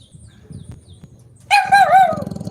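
After a quiet moment, a dog lets out a short run of loud, close barks that rise and fall in pitch.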